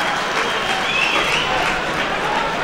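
Arena crowd at an NHL hockey game between the Panthers and Flyers applauds after a big body check, a steady, dense roar of clapping and cheering.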